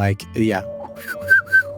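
Goblin signal whistle imitated by a voice: a close, clear human whistle with a rising trill and two bright repeated upward chirps, heard alone over a low hum.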